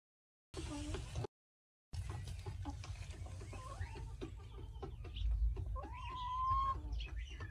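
Laying hens cluck in a backyard coop, with short, fairly close calls and a longer drawn-out note near the end over a low, steady background rumble.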